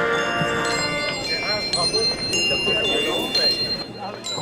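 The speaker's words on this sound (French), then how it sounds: "Entends-tu le son des cloches ?" A mobile carillon of church bells rings during a street procession through the town centre of Soignies, with costumed figures on foot and horseback; bright struck tones repeat in irregular succession over crowd chatter and a soft clip-clop.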